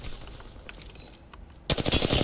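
R-301 and Volt gunfire in Apex Legends: a sudden rapid burst of loud automatic shots breaks in near the end, after quieter game ambience.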